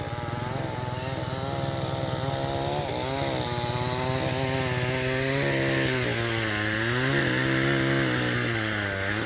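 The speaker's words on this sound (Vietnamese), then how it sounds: "Thấy có một anh đang cưa cây." A chainsaw runs steadily at close range while cutting down a tree on a village road, its engine rising and falling slightly as it bites through wood, loud and continuous throughout.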